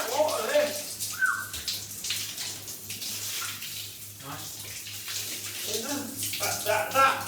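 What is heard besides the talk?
water running from tap, driven by pump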